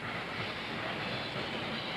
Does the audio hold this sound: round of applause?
no